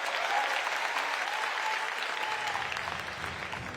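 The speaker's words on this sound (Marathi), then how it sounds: "सुप्रियाताईंच्या या वाक्याला टाळ्या मिळाल्या" Crowd at a political gathering applauds a remark by Supriya Sule, steady sustained clapping heard from a distance across the venue, gradually easing toward the end.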